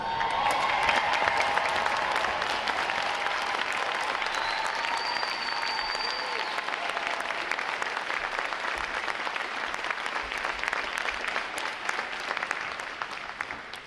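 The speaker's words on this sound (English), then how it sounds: "Would all our veterans please stand so we get you a round of applause, please?" A large crowd at a U.S. Navy boot camp graduation in Recruit Training Command applauds veterans, dense sustained clapping filling the hall steadily for about fourteen seconds with faint cheering.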